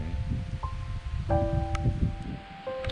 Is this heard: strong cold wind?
yes